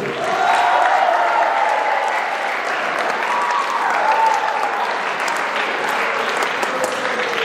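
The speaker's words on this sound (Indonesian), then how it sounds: "Kasih dulu tepuk tangan yang meriah." Enthusiastic applause from a seminar audience, steady and loud for several seconds, with a few voices mixed in.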